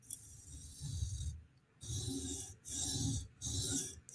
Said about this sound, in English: take our stone, lightly do a pass, make sure we clear the clamp